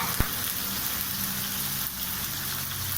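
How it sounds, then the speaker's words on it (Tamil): Onions, tomato, green chilli and curry leaves sizzle in hot oil in a pan for a Chettinad fish kulambu, a dense steady crackle close up with one sharp tap near the start. "நச்சு வச்ச பூண்டு எல்லாத்தையும் போட்டாச்சு. இப்போ நல்லா வதக்கிக்கலாம்."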